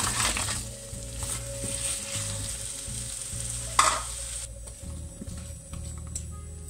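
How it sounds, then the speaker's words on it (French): Shrimp sautéing in butter and olive oil over high heat with garlic and parsley, sizzling steadily close up while being stirred, with repeated scraping and clicking strokes of a utensil in the pan and one louder clatter partway through. "l'idée, c'est de les faire revenir à feu vif tout en remuant"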